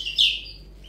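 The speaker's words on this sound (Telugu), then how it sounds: "ఓమా నీ కోడి పిల్ల గమ్మున ఉండదా?" A single sharp, high chick chirp rings out briefly and close by, then fades into quiet room tone.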